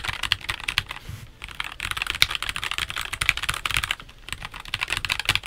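Typing on a NuPhy Air96 low-profile mechanical keyboard with red switches produces rapid, close, crisp keystroke clatter in continuous bursts with a couple of brief pauses, and no voice over it.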